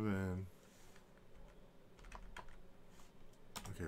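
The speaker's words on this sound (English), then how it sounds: "Let me type in his name." Quick, irregular keystrokes clatter on a computer keyboard at close range after a brief voice at the start, the tapping coming in loose bursts.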